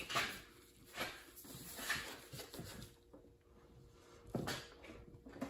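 A workbench shifts and knocks as a breaker bar on a 15/16 socket strains at a kingpin nut on a 1964 MGB, giving several separate wooden thumps and creaks at close range with quiet gaps between them.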